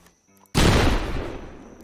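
A hammerless gun fires once in a Roblox wild west game, a sudden loud sharp bang after near silence, followed by a decaying tail of echo.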